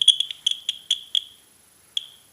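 Buzzers in a homemade earthquake detector box, built with a pendulum stick and a 9-volt battery, sound in a string of short, shrill, close beeps as the box is shaken. The beeps come irregularly, then thin out to a last lone beep.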